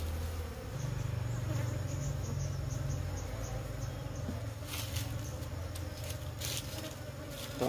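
Honey bees swarm loudly around an open beehive in a weak colony kept without a queen for a long time, filling the whole stretch with a dense, steady buzzing and no talking.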